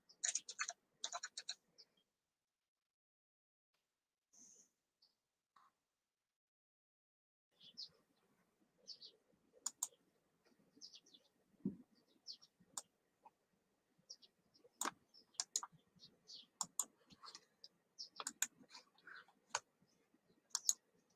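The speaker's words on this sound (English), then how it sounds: "Just typing this in for you." Sparse keystrokes and clicks on a computer keyboard, faint and close, come in short irregular bursts separated by long quiet gaps.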